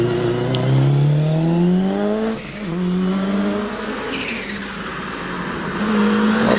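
A race car climbs the Prescott hillclimb course, understeering slightly through a right-hand hairpin. Its engine revs loudly and nearby, rising in pitch, dipping as the driver lifts, then climbing again as it pulls away.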